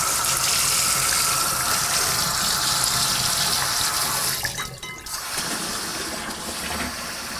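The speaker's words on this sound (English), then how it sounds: "Then we'll just top it up with cold water. Okay. I'm just using tap water" Cold tap water gushes steadily into a plastic fermenter for a Coopers Canadian Blonde beer kit, a loud continuous splashing flow that briefly falters before resuming.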